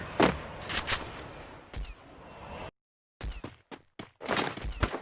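Bursts of video game gunfire crack in quick clusters, separated by brief silent gaps, loud and close with sharp rapid shots.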